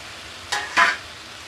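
Whole garam masala with ginger, garlic and onion paste hitting hot oil, a brief steady sizzle marked by two short bursts of stirring, no speech.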